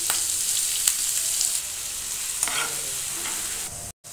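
Mustard seeds, cumin, curry leaves and sliced onions hit hot oil in a pan for paneer bhurji, producing a loud, dense, continuous sizzle with scattered crackles and stirring sounds, then cutting out abruptly at the end.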